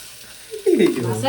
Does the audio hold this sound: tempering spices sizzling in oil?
yes